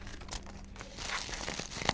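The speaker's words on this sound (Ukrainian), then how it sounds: "Дуже класно шарудить пакетик." A paper surprise packet, with an Avatar World and Blackpink theme, crinkles and rustles as it is opened by hand: soft scattered crackles first, then a denser stretch of crisp crumpling up close, with no voice.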